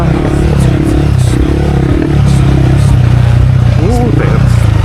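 A KTM 390 Adventure motorcycle fitted with Hyperpro springs riding off-road in gear, its engine droning steadily and loudly with a rising pitch late on, under the rider's voice.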